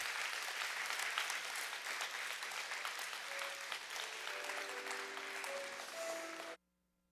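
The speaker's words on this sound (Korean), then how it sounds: "우리 나갈 때까지 다시 한번 박수 부탁드립니다" A church congregation at a year-end Sunday service applauds for a group of children in a long, dense burst of clapping. Faint sustained tones rise beneath it near the end before the clapping cuts off abruptly.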